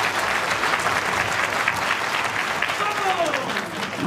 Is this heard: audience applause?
yes